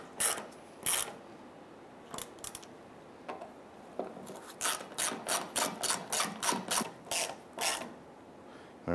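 A ratchet wrench tightens the fuel pump module bolts on a 1995–2001 Ford Explorer, giving scattered clicks and then a rapid run of about a dozen rhythmic ratcheting bursts, close and alone.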